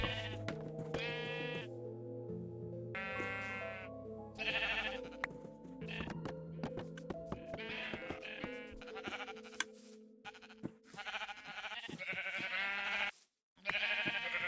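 Repeated Minecraft sheep bleats from a video game sheep farm, loud and close, overlapping in a steady stream with brief pauses, set against a synthetic musical backdrop.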